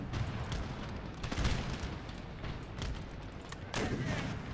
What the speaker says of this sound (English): I think there's some friendly fire going on.